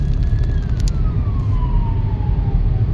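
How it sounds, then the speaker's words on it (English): Police car siren wailing as it passes on a road near Liverpool, a single long descending tone that drops in pitch over about three seconds, heard over steady loud engine and road rumble from inside a moving car. "might have not heard that police car go by"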